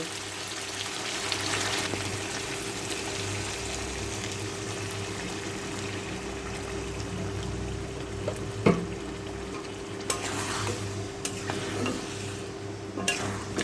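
Water added to browned chicken curry in oil, followed by a continuous low sizzle and bubbling with a few sharp spatula scrapes and clinks against the pot near the end.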